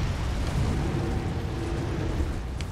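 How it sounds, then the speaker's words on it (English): A boss in Elden Ring breathes fire: a steady, loud roaring rush of flame with deep rumbling low end, sustained for a few seconds with a brief crackle near the end. "Oh, well, he breathes fire."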